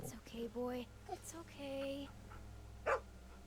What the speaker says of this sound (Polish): Nie szczekaj na mnie.